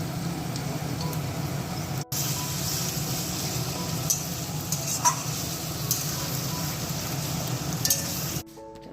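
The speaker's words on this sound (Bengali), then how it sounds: "নতুন আলু গোটা গোটা একদম ভাজা হচ্ছে বন্ধুরা" Whole new potatoes frying in a pan give off a steady, even sizzle throughout, with a brief dropout near the start and an abrupt cutoff just before the end.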